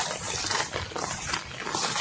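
Rainwater gushing and flowing across a village field during monsoon rain, a steady broadband rush that swells and eases, close and fairly loud with no talk.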